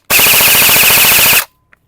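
An airsoft AEG rifle fires on full auto, shooting a 500 FPS class: one loud, tight, rapid buzzing burst of about 1.3 seconds that cuts off abruptly, followed by a faint click, close and with no talking.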